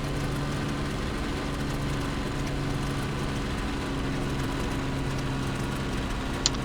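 A damaged Fw-190 or P-39 aircraft engine drones steadily at moderate level in the IL-2 Sturmovik (2001) flight simulator, a low uneven hum with faint rattling and a brief high click near the end.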